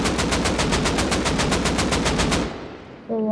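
Automatic gunfire from a gun in the video game Rust rattles in a fast, steady burst for about two and a half seconds, loud and close, then cuts off to a brief decaying tail and a faint tone.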